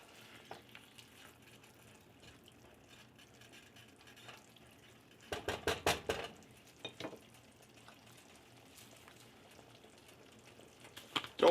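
A spoon stirs ground beef in a thickening sauce in a pan, faint sizzling underneath with a louder burst of scraping and clattering strokes near the middle.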